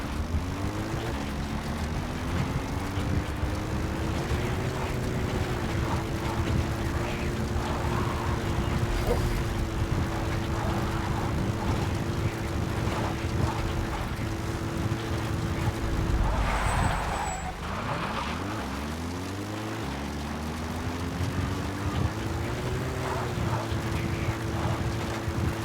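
Support helicopter from the video game Metal Gear Solid V arriving, a steady droning rotor and engine hum with a sustained tonal whine that shifts pitch midway, loud and continuous with background game ambience.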